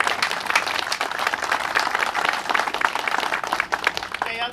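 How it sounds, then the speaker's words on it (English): Audience applause at a county police department motorcycle unveiling: a dense, steady wash of many hands clapping that holds evenly for several seconds and thins slightly near the end. "Let's give Jeff a big round of applause"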